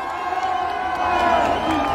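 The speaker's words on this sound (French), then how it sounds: "Applaudissez la Côte d'Ivoire." A crowd at a political rally in Mali claps and cheers, with whoops rising over a steady wash of voices and applause that builds slightly louder partway through.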